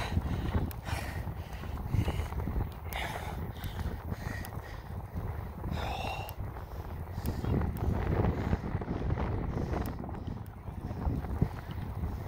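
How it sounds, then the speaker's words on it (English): Steady wind roars across the microphone while someone rides a bicycle outdoors, a constant gusty rumble filling the whole stretch with slight surges and a few faint knocks. "when you've got the wind blowing like this"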